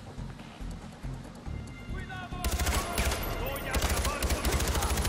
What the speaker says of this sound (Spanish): A ver si los podemos cagar a tiros desde acá arriba